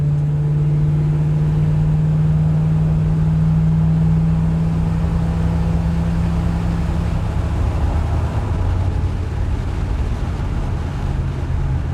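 A 1964 Cadillac Coupe de Ville accelerating at full throttle, a loud, close, continuous engine drone with a strong low hum that shifts in pitch partway through as the car gains speed.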